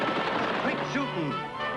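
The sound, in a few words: gunshots in 1950s western TV show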